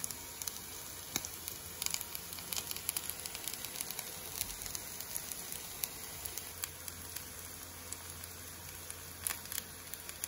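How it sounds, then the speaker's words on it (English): Homemade barbecue sauce of ketchup, sugar, vinegar and lime juice sizzles in a pot with fried chicken, giving a steady crackling hiss with scattered pops and no voices. "This we're going to now add our homemade sauce, which is made from ketchup, sugar, vinegar, and some lime juice."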